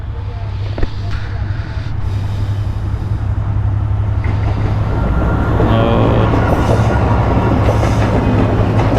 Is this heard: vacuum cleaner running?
no